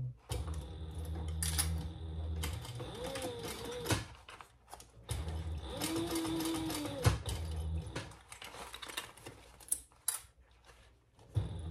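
A sewing machine basting a crossbody bag, with bursts of rapid stitching chatter that start and stop between pauses and handling noises, close and fairly loud.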